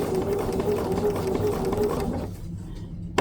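A sewing machine runs steadily for about two seconds, stitching fusible raw edge appliqué on a quilt, with a close, even whirring hum that then stops abruptly, leaving near silence.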